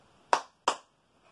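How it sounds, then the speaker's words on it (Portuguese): Two crisp hand claps sound in sequence, close and clear, separated by a brief pause in an otherwise quiet room. "Esse símbolo ele vai representar duas palmas em sequência"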